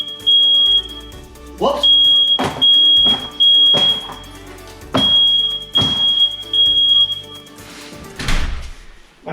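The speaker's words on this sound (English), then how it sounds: "My fire alarm's not too happy about this." A smoke alarm chirps in steady high-pitched beeps, broken up by loud thuds and knocks nearby during a Dodge Viper GTS Tremec T56 transmission rebuild, with a brief spoken exclamation.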